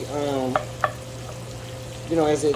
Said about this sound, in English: we're just gonna saute this just a bit.